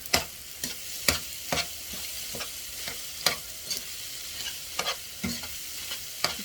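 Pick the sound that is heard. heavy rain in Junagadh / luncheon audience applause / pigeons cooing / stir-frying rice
stir-frying rice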